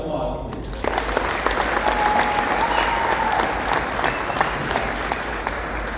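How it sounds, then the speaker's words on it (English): An audience at a high school hall-of-fame induction ceremony gives a sustained round of applause, dense clapping filling the room steadily for several seconds, with faint voices and cheers mixed in. "One more round of applause, please."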